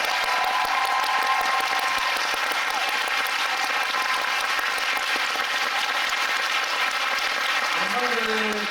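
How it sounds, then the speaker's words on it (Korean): Audience applause at a musical's final curtain call, honoring the ensemble actors of King Arthur: thick, continuous clapping at a steady level, with a faint voice surfacing near the end. "박수 한번 부탁드리겠습니다"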